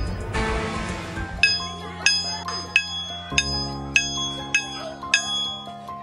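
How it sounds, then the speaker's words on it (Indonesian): A bright school bell in Indonesia, rung by a teacher, rings out in repeated sharp strokes at a steady pace, ringing clearly over a low background hum. "Lonceng sekolah tanda dimulainya belajar sudah dibunyikan oleh guru"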